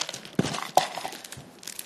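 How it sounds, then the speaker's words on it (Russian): Instant noodle packet crinkled and crumpled by hand, brief crackling bursts scattered across a short stretch, close and fairly quiet, no talking. "всем рекомендую бич-пакет"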